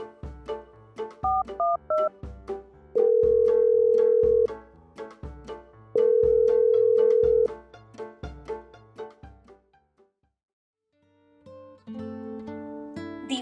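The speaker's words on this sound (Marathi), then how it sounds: "दिवाकर मामाला फोन लावला" Outgoing telephone call: a quick run of keypad dialing beeps, then two long, steady ringing tones separated by a gap, followed by a fainter tone pattern, with no voices.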